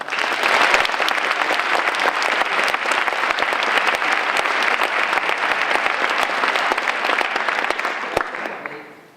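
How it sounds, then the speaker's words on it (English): Sustained, dense applause from a lecture audience, loud and even throughout, tapering off at the very end. "Let's give him another round of applause."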